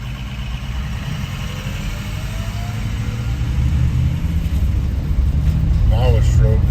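A Ford Power Stroke diesel truck engine rumbles low and steady close by, its idle swelling slightly louder partway through, as people talk over it.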